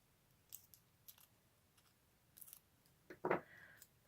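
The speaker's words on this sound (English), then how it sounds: "Probably not the best pair of scissors I'm using." Scissors cut through stiff card in a few quiet, close snips, ending with a sharper, louder cut.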